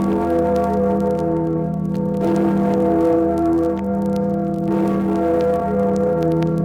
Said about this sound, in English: That was the Freedom Bell,